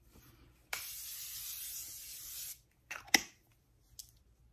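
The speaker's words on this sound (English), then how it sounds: "Oh, I'm using my Morphe setting spray." Morphe setting spray mists onto a face in one steady, close hiss lasting nearly two seconds, followed by a couple of short clicks and a brief second puff.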